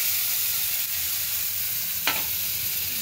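Ginger and green chilli paste, thinned with water, fries in a pan for vegetarian paneer butter masala, giving a steady, close sizzle with a brief stirring scrape partway through.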